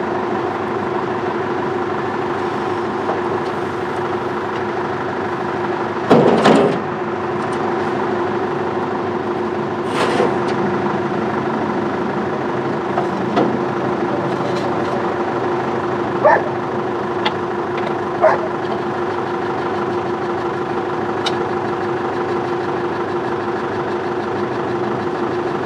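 An International Harvester tractor hitched for a Cyclo 400 planter test idles steadily at a low, even drone throughout, with a few brief clanks and knocks over the top.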